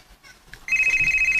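A mobile phone ringtone starts suddenly after some faint household sounds and rings loudly and steadily in a close, bright pulsing tone until the end.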